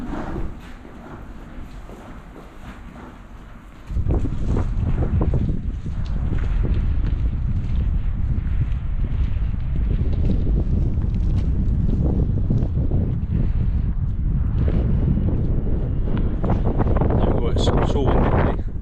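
Heavy wind buffets a small plane in flight over Luxembourg, a dense roaring rush that jumps suddenly louder and then stays constant, with a voice talking underneath.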